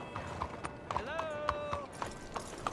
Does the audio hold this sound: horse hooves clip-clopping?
yes